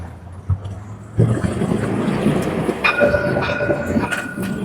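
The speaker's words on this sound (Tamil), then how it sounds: "பாருங்கள் நம்ம ட்ரெயின் வருது" A Dubai Metro train rumbles in nearby, a steady heavy roar with rattling and faint squeals as it pulls into the station.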